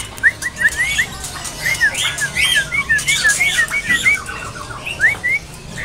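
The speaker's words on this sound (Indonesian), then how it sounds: "sekarang kita pantau untuk burung cak ijo. Kondisi burung sudah gacoran ini." A green leafbird, cucak ijo, sings at a bird market in a lively run of quick, bright whistled notes and chirps. The song is close and fairly loud over a soft background of market hubbub.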